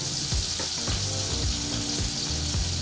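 Scallops sear in a hot pan, an even, close sizzle and crackle running throughout, with low thumps and scrapes recurring underneath.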